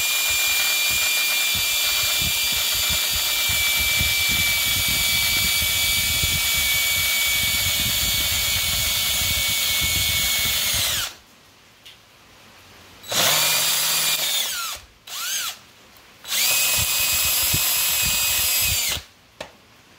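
A power drill works on the identification plate of a 1950 Cub Farmall tractor, whining loud and steady for about eleven seconds, then cutting in and out in shorter bursts.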